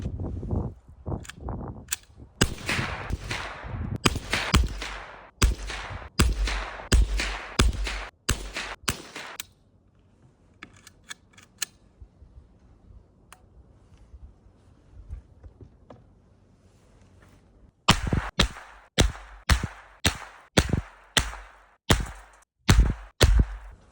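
Repeated .22LR rifle shots fired with Remington Ranch Hand ammunition, sharp cracks in quick bursts, a volley at the start, a quiet stretch in the middle, then a steady run of evenly spaced shots at the end.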